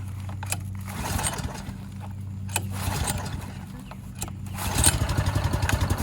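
Small outboard boat motor being choked and pull-started, sputtering engine rumble with rough firing pulses that grows louder and more rhythmic near the end as it catches.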